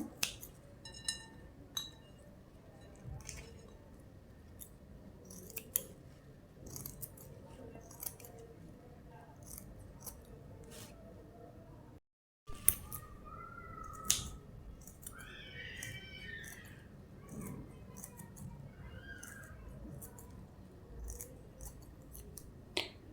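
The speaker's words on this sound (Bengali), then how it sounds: "ছোটো ছোটো করে কেটে নিব এইভাবে কেটে সুন্দর করে কেটে নেবে" Scissors cutting orange peel into small pieces for a face pack, heard as quiet, close, sharp snips at an uneven pace, broken by a short silent gap midway, with no speech.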